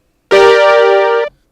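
Plucky synth note built from three slightly detuned oscillators, the third dropped an octave, giving a thick, bright harmonic tone that starts sharply, holds steady for about a second, then cuts off cleanly, loud and alone.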